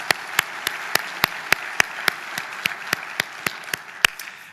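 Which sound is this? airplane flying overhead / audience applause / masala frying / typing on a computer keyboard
audience applause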